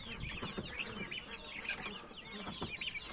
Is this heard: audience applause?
no